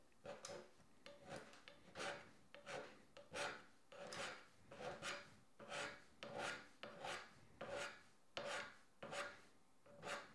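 Rhythmic rasping strokes of a homemade hand scraper shaving cast iron on a workbench, roughly fifteen even back-and-forth scrapes, close and steady with no talk.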